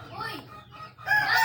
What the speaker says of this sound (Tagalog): Ang ingay pa ng mga manok namin.